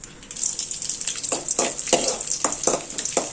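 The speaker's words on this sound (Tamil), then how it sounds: "எப்பயும் வடகத்தை போட்டு நல்லா பொரிச்சுக்கணுங்க" Vadagam sizzles in hot oil with a steady high crackle, and bursts of bubbling and stirring rise and fall every half second or so. No one speaks over it.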